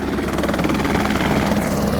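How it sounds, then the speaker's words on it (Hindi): A private helicopter near Kedarnath in the Himalayas arrives with a loud, steady rotor chop and engine roar that fills the whole stretch without a break, close by and with no voices over it. "हेलीकॉप्टर आ रहे हैं"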